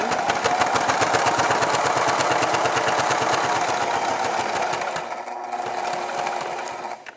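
Rapid, regular stitching from a sewing machine working through thick scrapbook paper runs loud and close for about five seconds, then gives way to a softer motor hum near the end.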